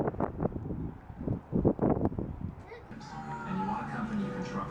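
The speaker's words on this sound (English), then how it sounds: "Here comes the wind, guys. Those trees that are whipping around." Strong gusts roar steadily through trees whipping around in the wind, a broad rushing noise that builds after a stretch of talking and continues under a voice.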